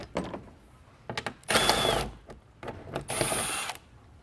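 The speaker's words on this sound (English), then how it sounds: "I have an 8mm on my electric impact." Electric impact wrench fitted with an 8mm socket spinning out splash shield bolts on a 2006-2007 Mercedes-Benz C280 W203 4Matic: short buzzing bursts, then two longer whirring runs, loud and close with no talk.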